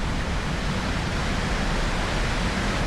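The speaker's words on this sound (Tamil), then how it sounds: "அப்படியே இந்த சைடு பார்த்தீங்கன்னா வந்து ஒரு ஃபால்ஸ் இருக்கு" Waterfall at Bodimettu near Munnar: a steady, dense rush of falling water, close and fairly loud, continuous for the whole stretch with no voices.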